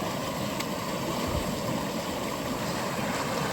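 After an atmospheric-river deluge, water bubbles up out of the ground in a steady, close gurgling wash, continuous and without speech.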